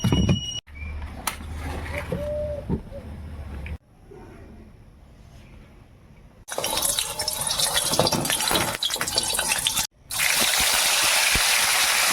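Water poured onto mustard powder to soak it, a steady trickling and gushing pour in several stretches with brief pauses and changes in level, close and continuous.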